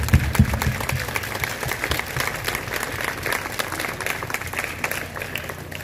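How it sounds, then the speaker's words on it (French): Audience at a school's reopening ceremony on the first day of the academic year applauds warmly, with sustained, dense clapping from many people and a little crowd murmur beneath it. "Je vous invite à l'applaudir chaudement."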